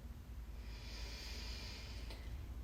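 A single slow Ujjayi inhalation during a yoga practice, drawn in with lips closed, comes as a soft, faint, airy hiss that swells and holds for about a second and a half.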